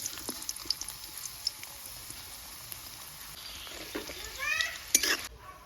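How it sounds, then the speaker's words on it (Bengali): Chopped onion fries in oil left over from frying prawn fritters, a steady sizzle broken by light clicks and scrapes, swelling into a louder burst of hiss and stirring toward the end. "চিংড়ি মাছের বড়া ভাজার তেলটাতে আমি দিয়ে দিব পেঁয়াজ কুচি।"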